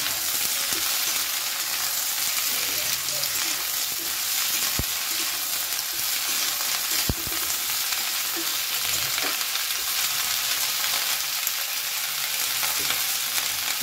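Thick spinach stalks fry in a pan with a constant close hiss and crackle, with occasional clinks and scrapes from stirring, steady throughout.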